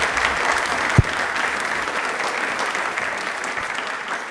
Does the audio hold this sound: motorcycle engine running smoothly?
no